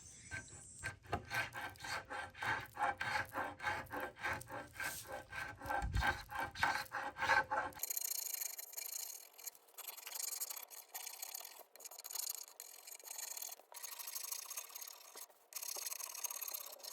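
Sandpaper rubs paint off solid wood dresser legs from a mid-century dresser, a close rhythmic rasping in quick strokes that later turns to lighter, thinner scratching passes, with no talk.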